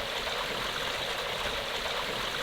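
A stream swollen with runoff rushes nearby, a steady, dense, unbroken roar of gushing water with no gaps or voices.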